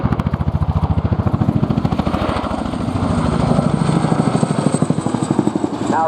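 An RAF Boeing Chinook HC.2/4 twin-rotor helicopter flies an air show display, its loud, rapid blade thump pulsing steadily under a heavy turbine roar, with the beat briefly blurring as it swings past.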